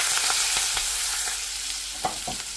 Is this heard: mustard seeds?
yes